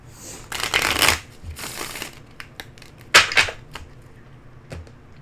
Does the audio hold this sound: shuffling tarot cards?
yes